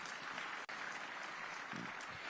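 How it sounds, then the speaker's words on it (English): A large audience at a conference session applauds in a dense, continuous roar of many clapping hands, even and sustained, heard at a distance with a brief dropout. "Big round of applause for him,"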